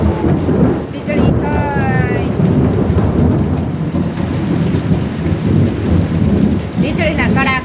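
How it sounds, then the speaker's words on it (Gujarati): Heavy rain pours down in a village while thunder cracks and rumbles, a dense, loud, continuous wash of rainfall with booming claps, and a voice talking over it. "વીજળીના કડાકા બોલે છે અને વરસાદ પણ બહુ ચાલુ છે"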